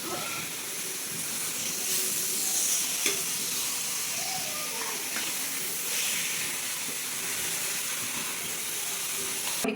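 Chicken sizzles and hisses steadily in a hot pan with onions for curry, with occasional faint clinks as it is stirred.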